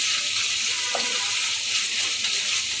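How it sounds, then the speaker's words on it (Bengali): Onions frying in a pan for Bengali chicken tehari give a steady, close sizzling hiss with a faint scrape of stirring partway through, and nobody talks. "পেঁয়াজটা একটু ভালো করে নেড়ে চেড়ে নেব"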